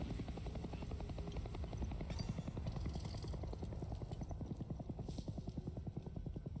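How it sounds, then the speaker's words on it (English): A helicopter's rotor thumps in fast, steady pulses in the video game Hell Is Us, continuous and fairly distant, with faint synthetic chimes and clicks over the top. "Helicopter."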